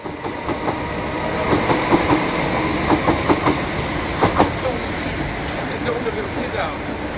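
A DC third-rail electric multiple unit rolls past on a busy Southern England commuter line, with rhythmic wheel clicks over rail joints above a steady running roar that swells and then eases, fairly loud and near.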